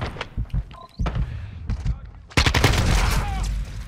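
Gunfire rings out in the video game Modern Warfare 2, with sharp shots, short bursts and then a dense, loud volley of rapid firing, mixed with game effects.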